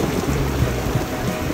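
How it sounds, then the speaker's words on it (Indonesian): Storm rain pours steadily during a hike up Mount Ciremai via the Apuy route, a dense continuous hiss with a low rumbling undertone that may be distant thunder. "Badai."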